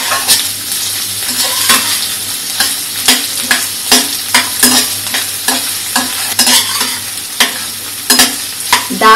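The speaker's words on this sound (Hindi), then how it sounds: "अब ये हम डालेंगे इसमें बारीक कटा हुआ प्याज" Finely chopped onion fries with a steady sizzle while a utensil stirs it in a pan, scraping at a regular rhythm throughout. The sound is close and moderately loud, no one talks, and it belongs to a vegetable masala rice dish.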